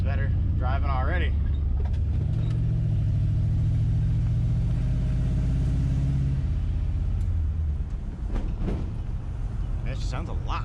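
An LS-swapped car drives along, its engine giving a steady low rumble with road noise throughout, with voices talking briefly near the start and end.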